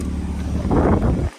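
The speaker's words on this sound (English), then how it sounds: "I'll actually go ahead and cut the car off so you guys can see" A running 2016 BMW M4 Competition F82 engine rumbles briefly, swells slightly, then cuts off abruptly into silence.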